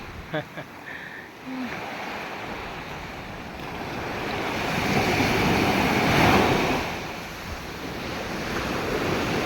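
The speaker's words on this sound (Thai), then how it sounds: "วันนี้คลื่นแรง สวยงามมาก" Strong ocean waves surging onto a sandy beach, a broad wash of surf swelling louder mid-way then easing, with wind buffeting the microphone and a few brief sounds at the start.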